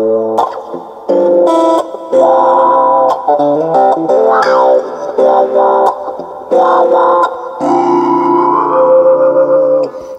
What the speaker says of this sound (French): je vais rajouter une petite réverb sur le son parce que dry c'est quand même assez ingrat